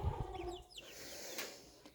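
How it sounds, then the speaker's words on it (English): Chicks and a few turkey poults in a brooder give soft, quick peeping chirps, quiet and close, with some light rustling. "There's 4 turkeys and the rest are all chicks."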